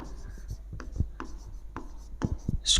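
Chalk or marker strokes on a board scratch and tap in short irregular bursts, fairly close, while a voice speaks faintly in the background.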